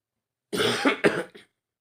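Someone nearby coughs in a quick run of three or four rough hacks, the last one weaker, then goes quiet.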